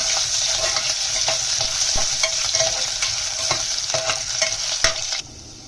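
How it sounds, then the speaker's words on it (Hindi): Medium-sized potatoes fry in hot oil in a kadai over a low flame, giving a steady close bright sizzle with intermittent stirring scrapes and clicks, then cutting off abruptly near the end. "अब ये आलू अच्छे से फ्राई हो गए हैं।"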